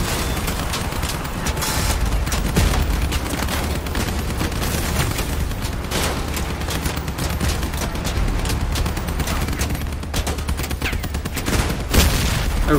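Dense, continuous gunfire in the Crossout vehicle combat game, rapid automatic bursts layered with heavy booms and impacts, loud and close with no pause.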